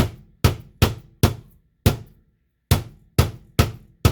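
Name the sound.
pounding beef jerky strips flat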